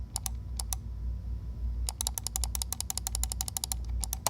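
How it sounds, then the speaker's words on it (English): Rapid, crisp clicks of a Logitech MX Master 2S mouse in quick irregular bursts, close up and fairly loud over a low steady hum, with a short pause near the start. "to the MX Master 2S, which sounds like this"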